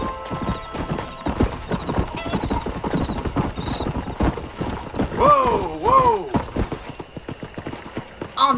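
Horse hooves clip-clop steadily through a Red Dead Redemption ride, with two sharp whinnies rising near the end and game dialogue speaking over the trotting.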